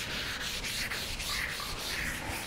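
Putty being sanded by hand with fine 360-grit sandpaper, a close, steady abrasive rasp in quick repeated back-and-forth strokes, with no talking.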